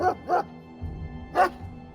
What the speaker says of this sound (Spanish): Milo empezó a ladrar